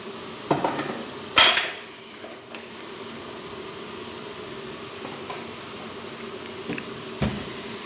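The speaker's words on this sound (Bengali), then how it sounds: "লবণ দিয়ে আমি ভালোভাবে মাখিয়ে নেব" Rice flour and a pinch of salt are mixed in a bowl: a few clinks of utensil against the bowl near the start, then soft, quiet stirring and rubbing with faint occasional taps.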